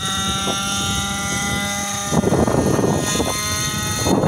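A Raptor 700 RC helicopter with an OS 61 engine runs nearby with a high, steady buzzing whine, joined by a louder, gusty rotor whoosh partway through.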